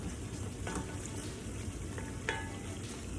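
Pork and ginger stir fry sizzling steadily in a hot pan, a faint, continuous frying hiss with a few small clinks and no talking.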